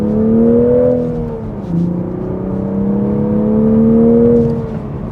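Toyota GR Supra 3.0 Premium manual (2023-2025) engine pulling under part throttle, a smooth rising drone that dips briefly at a gear change and then climbs again, heard steadily from inside the car.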